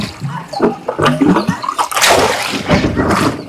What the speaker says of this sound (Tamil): ஒரு 3 குடம் தண்ணி பிடிச்சிட்டு போலாங்க.